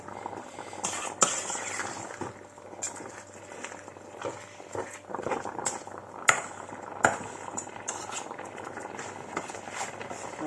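Maize semolina foufou cooking on a stove: a pot gently bubbles and patters, with scattered small clinks of utensils and cookware, fairly close and moderately quiet, with no voices.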